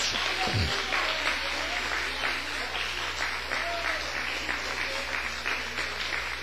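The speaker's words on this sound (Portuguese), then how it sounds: "E uma salva de palmas" A church congregation at a worship service claps in praise, a sustained, dense round of applause over a low steady hum, with faint voices mixed in beneath the clapping.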